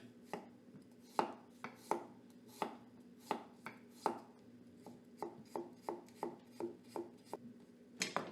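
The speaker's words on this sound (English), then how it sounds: "I'm gonna go ahead, same thing, chop up some garlic" A knife chops garlic on a cutting board in a steady run of close, crisp taps. The strokes come about two per second and quicken slightly near the end, quiet and alone.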